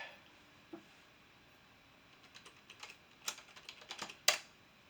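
Keys clatter on a computer keyboard as someone types the sudo apt update command while setting up a NAS. The clicks are quiet and close, come in quick uneven bursts after a lone early tap, and end with a sharper final keystroke.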